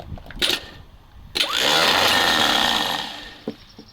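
A ZIL truck starter motor is bench-tested with jumper cables from a battery. After a couple of sharp clicks, it spins up into a loud, harsh whirring whine for about a second and a half, then winds down, followed by another brief snap.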